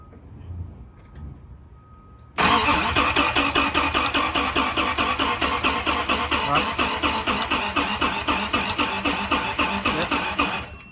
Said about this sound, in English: We're gonna go ahead and crank the engine over and see if this thing has any spark.